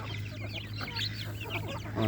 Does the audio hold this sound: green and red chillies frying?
no